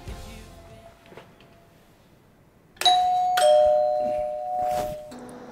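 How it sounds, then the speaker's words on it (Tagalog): A home doorbell rings in the evening with a bright electronic ding-dong chime that sounds twice in quick succession, with one tone lingering over a quiet room background. "May nag-doorbell ah."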